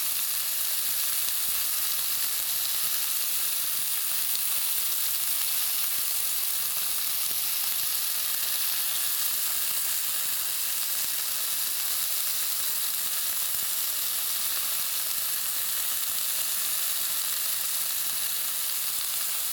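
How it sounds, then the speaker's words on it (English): Meat seared in a hot pan while being turned to brown all sides for a bento lunch, a loud, steady, hissing sizzle that stays even and unbroken throughout with no voices. "I'm turning this over to give it a sear on all sides."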